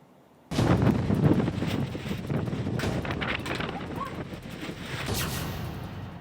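Strong storm winds in Jalpaiguri, West Bengal, during a violent hailstorm, heard as a loud, rough roar that buffets the microphone after a sudden start and keeps rushing throughout.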